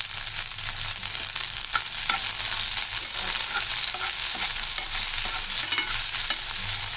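Tomatoes, garlic and green chillies sauté in a pan for mint chutney, giving a steady, close sizzle with light scraping and stirring throughout, and no one speaks.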